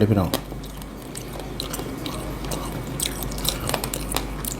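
Crispy deep-fried frog bones crunch and crackle under close biting and chewing, with a steady crunchy texture over low background noise and someone talking over it.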